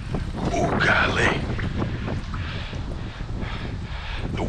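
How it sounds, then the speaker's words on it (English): Gusty wind buffets the microphone outdoors on open water during a bass fishing outing, a steady rumbling roar with a person talking excitedly over it. "The wind is blowing me all over the place."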